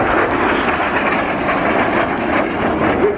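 A display jet roars over the RIAT Air Tattoo airshow, a loud, continuous broadband rush of engine noise holding steady throughout with no pauses, heard from a distance on the airfield.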